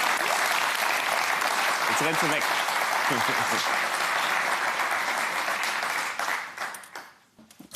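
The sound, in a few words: studio audience applause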